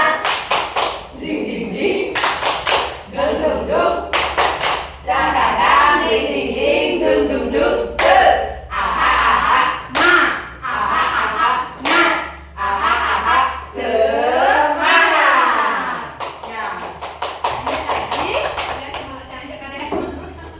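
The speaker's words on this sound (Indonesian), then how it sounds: "ayo kita tepuk semangat dulu" A group in a teachers' learning community session does a rhythmic spirit clap, bursts of patterned clapping and thumps alternating with chanted voices, loud and close.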